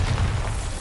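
A Bombarda explosion spell from the Hogwarts Legacy video game lands as a heavy, rumbling boom with dense low-end energy that holds steady and loud across the whole moment, without speech over it.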